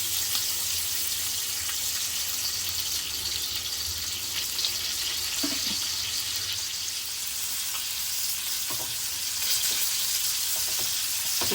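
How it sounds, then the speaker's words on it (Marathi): Pomfret fish fries in oil in a pan with a steady, dense sizzle and crackle that runs throughout, close and fairly loud, with a few faint utensil knocks and no talking. "ह्या साईडने सुद्धा आपण एक मिनटं फ्राय करून घेऊया"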